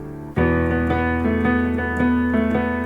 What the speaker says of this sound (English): Now with swing.